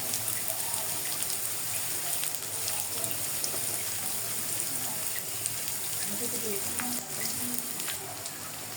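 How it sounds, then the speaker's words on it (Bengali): Chopped onions and green chillies frying in hot oil in a wok for a fish curry, a dense, steady crackling sizzle throughout with faint background noise. "এখন মাছগুলোকে ভুনা করার জন্য আমি এখানে কড়াইতে তেল দিয়ে তার মধ্যে কুচি করা পেঁয়াজ মরিচগুলো দিয়ে দিয়েছি"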